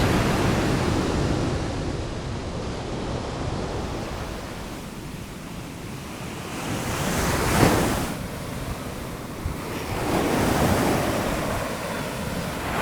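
Waves wash onto a sandy beach at Hua Hin, Thailand in a loud, continuous roar, with wind buffeting the microphone and two broader surges of surf swelling toward the end.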